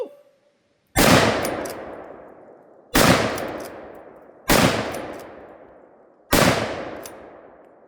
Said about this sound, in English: 180 grain ballistic tip 30-06 out of my 7600 pump action Remington